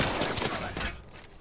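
Gunfire from the battle-royale game Apex Legends: dense, continuous shooting and impact noise packed into a short stretch that fades slightly toward the end, with no voices.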